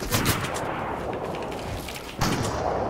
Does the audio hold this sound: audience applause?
no